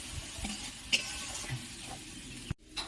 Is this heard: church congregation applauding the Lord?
no